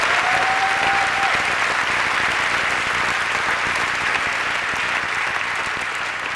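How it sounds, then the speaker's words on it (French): Audience at a televised awards gala applauds a nominee, a dense, sustained burst of clapping from a large crowd, loud and close, slowly easing toward the end. "En nomination à M. Paul Arcan, on l'applaudit."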